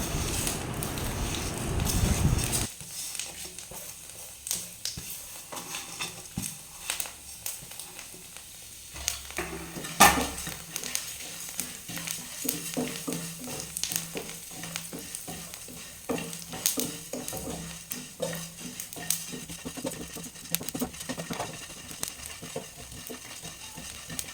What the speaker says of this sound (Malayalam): നമ്മൾ അരി ഇടുകയാണ്, അരി വറുത്തെടുക്കുന്നുണ്ട്.